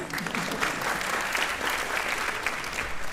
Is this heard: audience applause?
yes